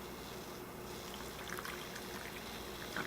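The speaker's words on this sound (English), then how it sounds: "Now we're just going to put our broth in." Broth is poured into pint jars packed with pork tenderloin, giving a soft, continuous liquid trickle with faint splashing that holds steady.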